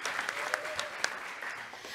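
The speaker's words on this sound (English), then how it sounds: "Great applause." Soft applause from a conference audience at a tech talk on Chrome developer tools, a brief patter of clapping with a few sharper individual claps standing out.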